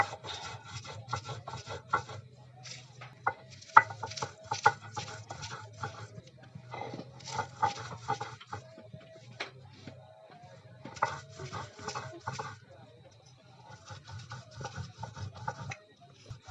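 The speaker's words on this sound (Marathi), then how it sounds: "त्यासाठी आपण याची छान असं पाट्यावर हे वाटून घेणार आहोत" Ginger, garlic and green chili with a little salt are ground into paste on a stone slab. A stone grinder scrapes and rubs in repeated close strokes and pauses, with no talking.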